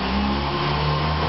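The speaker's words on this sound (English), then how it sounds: "As soon as this car goes by," A car passes close by during a nighttime outdoor recording in Stockton, its engine note steady and loud for about a second, with no voices.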